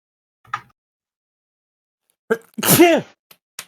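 A single sharp sneeze bursts out after a short intake of breath, close and loud, with faint small sounds around it.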